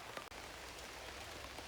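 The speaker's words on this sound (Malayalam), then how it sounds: "മഴ ഇങ്ങനെ പെയ്തോണ്ടിരിക്കുന്നുണ്ട്" Rain falling outside a temple, a soft, steady hiss of drops on surfaces, faint and uninterrupted with no voices.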